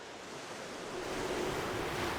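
Cartoon ocean scene out in the middle of the sea, with waves washing and wind blowing in a soft, continuous surf and gusty rush that swells slightly toward the end, with no voices.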